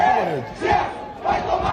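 A Flamengo football crowd chants against Gerson, a massed roar of voices rising and falling in rhythmic swells.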